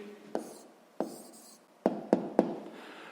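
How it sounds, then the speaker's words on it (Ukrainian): A pen writes a math answer on paper, five short sharp taps and strokes spaced irregularly, close and quiet. "зараз записуємо тоді відповідь"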